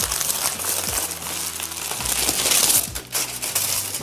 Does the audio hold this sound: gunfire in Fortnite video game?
no